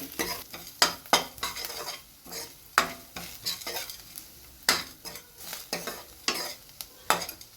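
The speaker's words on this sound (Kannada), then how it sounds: "ಈರುಳ್ಳಿ ನೀಟಾಗಿ ಫ್ರೈ ಆಗಬೇಕು." Salted onions fry in a pan for rasam while a spoon stirs them, with sharp, repeated scrapes and clinks of metal over a softer background sizzle, close and rhythmic.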